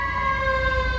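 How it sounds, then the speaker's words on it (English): A fire truck siren holds a steady wailing tone near the scene of a car crash, loud and continuous with a low engine rumble beneath and no talk. "Oh, that's a fire truck."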